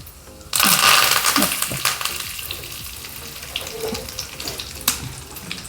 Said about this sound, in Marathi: थोडीशी कढीपत्त्याची पानं थोडी अशी चुरून आपण टाकूया